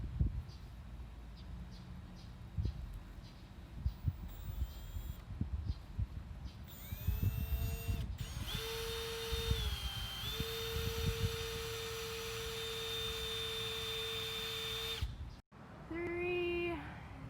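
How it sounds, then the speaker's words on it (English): A power drill bores holes through the wall of a van being converted, whining steadily at a sustained high pitch with short stops and restarts, loud and close, over background noise. "we're ready to drill the holes"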